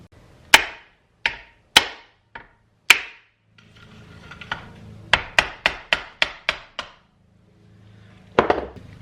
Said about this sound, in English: Just put something right here and just hit it with a hammer to break this seal loose.